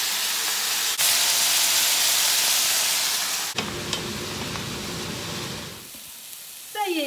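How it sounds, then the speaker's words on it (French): Vegetables for a chicken tajine sizzle loudly in a pan, then water is splashed in to deglaze, cutting the hiss to a softer bubbling, spitting steam before it quiets and a clatter closes. "Je mets un petit peu d'eau pour déglacer."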